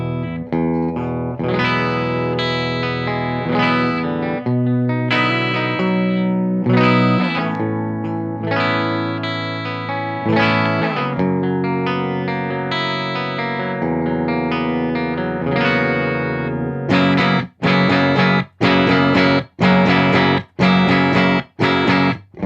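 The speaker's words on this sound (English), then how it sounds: "So hitting those chords and kicking the compressor on, it doesn't really sound any different at all." Electric guitar chords strummed through an all-analog pedalboard with a compressor switched on, sustained ringing chords giving way to short, choppy stabs near the end, played alone without talk.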